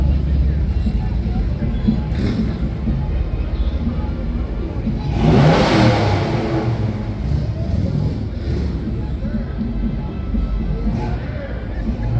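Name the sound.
classic car engine revving in a parade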